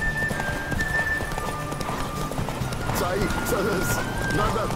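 Horses gallop in a race at Crow's Perch in The Witcher 3, a fast drumming of hooves under constant background noise, with a faint whinny near the end.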